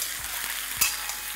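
Thin-sliced potatoes frying in oil with nigella seeds, a steady broadband sizzle with a few soft stirring knocks and one sharper scrape partway through, close and alone without talk.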